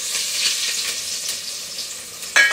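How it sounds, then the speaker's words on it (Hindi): Cumin, mustard seeds, fenugreek, carom seeds and curry leaves sizzle in hot oil for pakoda kadhi, a steady close crackle with a sharper burst near the end. "अब मैं बना रही हूँ कढ़ी। इसमें है जीरा, राई, मेथी, अजवाइन और कड़ी पत्ता।"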